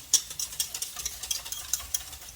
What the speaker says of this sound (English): And a tablespoon of honey to that. Some orange juice. We're just gonna mix this together.